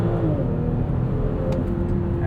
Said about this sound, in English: let's go in and do a launch controlled start